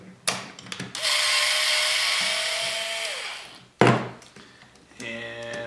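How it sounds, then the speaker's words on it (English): Screws are being backed out of a Traxxas 4x4 RC car with a power driver, which whines steadily for a couple of seconds and then again in shorter bursts, with clicks and handling clatter between runs. "Pull these two screws out."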